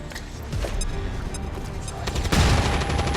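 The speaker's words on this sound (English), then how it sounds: "Flashbang!" A flashbang grenade detonates in XCOM 2, the Long War 2 mod, with a sharp burst and a louder, broadband blast near the end amid game effects and sound.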